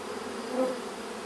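Honeybees buzz inside a hive in a brief, steady, dense drone of many wings, moderately close.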